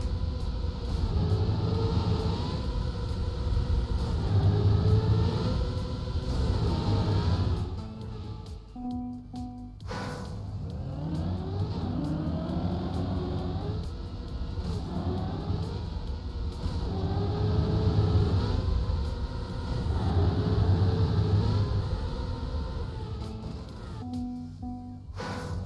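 A racing video game car engine drones steadily and loudly throughout, with pitch swells and shifts as it accelerates and turns, a brief gear-change drop midway, and no talking.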